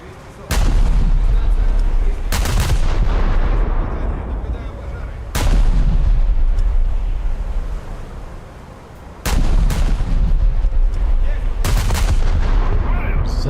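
Warship main batteries fire at an enemy destroyer in a naval combat video game: several loud, deep cannon blasts in uneven bursts, some doubled, each trailing off into rumbling echoes, close and without talk.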